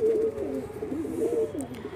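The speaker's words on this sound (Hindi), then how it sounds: "ये बहुत मस्त कबूतर है।" A pigeon coos softly and continuously at close range, a low warbling rolling call repeated over two seconds with no talk.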